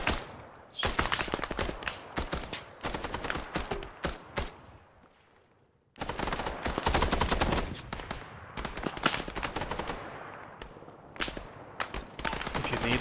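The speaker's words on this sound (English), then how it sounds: "Where's that auto cannon fire coming from?" Auto cannon fire in the military game Arma: long, loud bursts of rapid heavy shots that stop for about a second around the midpoint and then resume, steady and close, with no talk.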